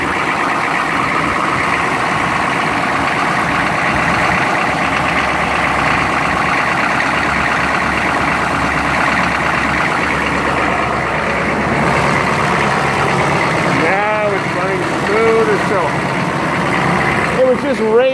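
A GMC dually truck idles steadily after a cold start, with a loud, continuous engine drone throughout. Someone talks over the engine, and several short warbling tones appear near the end.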